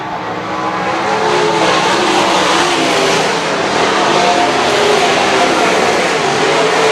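Sprint cars race around a dirt track in a loud, continuous engine roar that holds steady throughout, with no clear gaps between passes.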